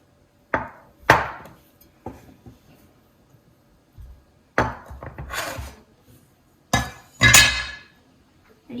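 Knife slicing through rolled cinnamon roll dough into pieces, sharp separate cutting thuds on a board coming in uneven bursts, close and fairly loud with quiet gaps between.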